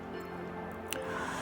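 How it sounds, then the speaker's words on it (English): Acrylic paints being stirred with Floetrol and a little water make soft, wet squishing and dripping sounds, faint and close, with a brief sharper clink near the end. "So I'm just going to be mixing up these paints."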